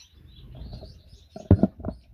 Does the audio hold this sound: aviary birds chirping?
yes